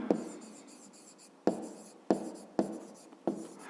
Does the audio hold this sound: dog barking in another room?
no